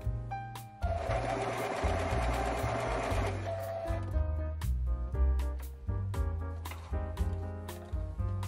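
A sewing machine stitches down box pleats on a 1920s-style afternoon dress, running in a long steady burst and then in shorter start-stop runs, close and clear.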